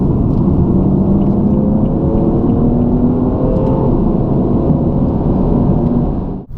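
A BMW M235i idling while stationary, a loud, steady low rumble with a smooth droning hum held evenly throughout, close to the car and with no talking.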